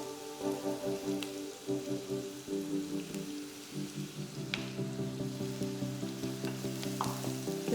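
Curry leaves, two sprigs, fry in oil in a pan for a spicy Andhra prawn curry. A crackling, rain-like sizzle holds steady throughout, with rhythmic stirring pulses early on and occasional sharp pops.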